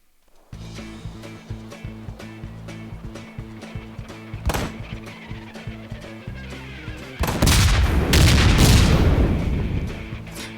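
Gunfire and a propane tank blowing up in a video game, with a steady run of sharp shots giving way to a bright, sustained explosive roar near the end, heard with no talking.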